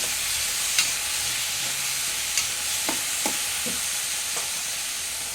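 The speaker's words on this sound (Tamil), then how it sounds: "தக்காளி ரெண்டு பெரிய தக்காளி அரிஞ்சு வச்சுருக்கோம் இதையும் இதுக்கு கூட சேர்த்து கிண்டி விடணும்" Chopped tomatoes stirred and scraped in a hot pan for a spicy tomato-mint chutney, a continuous soft sizzle broken by several sharp spoon scrapes and taps.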